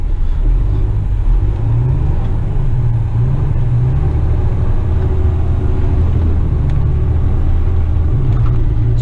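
Loud, steady low rumble from inside the cab of a Western Star dump truck driving along a road, with a constant engine drone and road noise and faint rattles on top.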